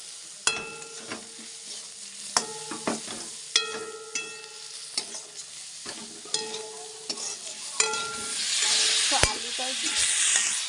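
Fried onion and bitter gourd with salt, turmeric and chili powder are stirred in a pan, a spatula striking and scraping the metal in repeated sharp knocks over a soft sizzle that swells toward the end.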